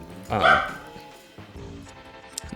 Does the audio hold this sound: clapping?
no